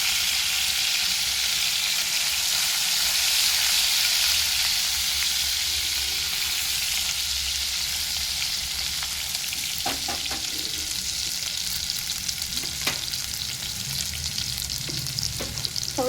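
Garlic cloves, chili and ginger paste fry in hot oil, giving a steady, dense sizzle that runs throughout, with a few soft scrapes of stirring near the end. No voices.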